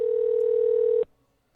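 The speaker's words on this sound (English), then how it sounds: "I'm hitting the number. It's ringing." A Skype call's ringing tone, one loud steady electronic hum holding for about a second before cutting off abruptly into near silence.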